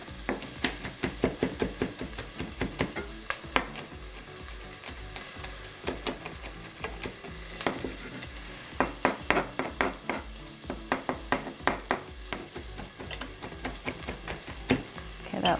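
Corn chowder being stirred in a pot, a vegetarian soup, with repeated scraping knocks and clatters of the spoon against the pot over a steady simmering hiss, close and fairly busy throughout.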